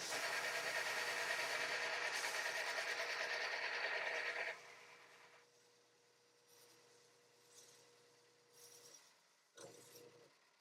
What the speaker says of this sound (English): Next, I'm cutting that radius on the leading edge.